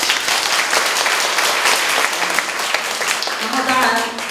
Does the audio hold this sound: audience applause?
yes